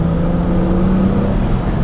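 A car with a welded differential and a newly repaired driveshaft and driveline cruises along with a steady, even engine and road drone, smooth and continuous throughout.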